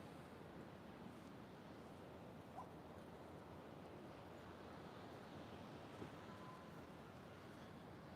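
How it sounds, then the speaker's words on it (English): Ocean surf washing onto a sunny beach, a soft continuous wash of waves heard at a distance, steady and fairly quiet with no talking. "Take a listen to that ocean."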